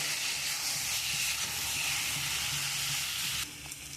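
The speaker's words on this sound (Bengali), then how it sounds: "আমি এবারে মশলাটা দিয়ে খুব ভালো করে কষিয়ে নেব" Spice paste of ground coriander, cumin and chilli sizzles and hisses steadily in a pan while being sautéed for rita fish kalia, a close, continuous frying sound that drops slightly near the end.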